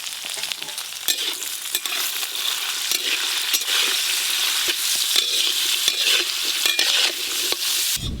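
Beans, capsicum and carrots stir-frying in oil for fried rice, a steady close sizzle with scraping stirs and spatula clicks throughout, no talking.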